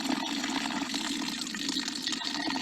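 Water is poured from a container into a garden bed, a steady splashing gush that runs without a break at close range, with no speech over it.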